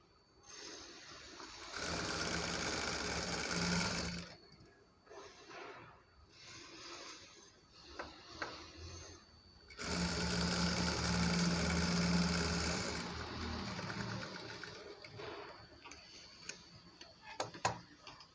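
A sewing machine stitches invisible piping on the back of a blouse made from saree cloth, running in two loud sustained bursts of rapid mechanical ticking separated by quieter pauses with handling sounds.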